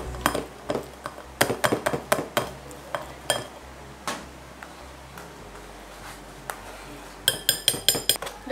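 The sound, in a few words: spoon scraping food through a strainer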